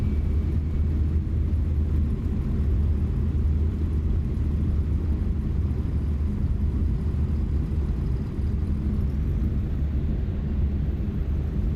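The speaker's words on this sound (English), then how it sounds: "We might get ran down. I hear a big jet." A big jet rumbles in a flight simulator game at Portland International Airport (KPDX): a steady, continuous low engine roar that stays even and fairly loud throughout, with no talking.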